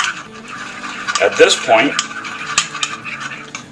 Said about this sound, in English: we get the Dijon mustard and the ketchup. And we'll just mix it together nicey.